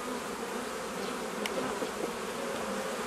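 Honey bees around a beehive during colony work, a dense, steady buzzing hum nearby with individual bees droning close past now and then.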